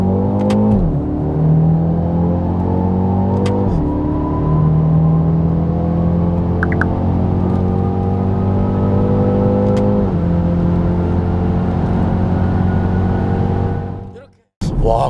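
A BMW X2 xDrive M35i engine revs hard under acceleration, its pitch climbing steadily, then dropping sharply at three paddle-shift upshifts. The rising-and-falling pattern repeats close and loud, then cuts off abruptly near the end.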